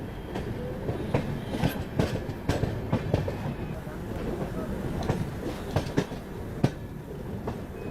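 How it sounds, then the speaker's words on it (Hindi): The Rajdhani Express rolls into Jhansi Junction station, its wheels clattering over rail joints in an irregular rhythm of sharp clicks and thumps under a steady rumble, heard from the platform at moderate distance. "फाइनली अपनी राजधानी एक्सप्रेस एंट्री ले रही है झांसी जंक्शन रेलवे स्टेशन में"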